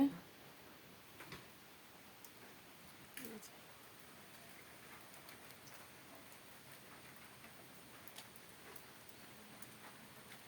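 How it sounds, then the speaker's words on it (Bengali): Heavy rain falls outside after raining through the night, a steady, faint, distant hiss that runs unbroken with no other clear sounds. "বাহিরে এখনো অনেক বৃষ্টি হচ্ছে।"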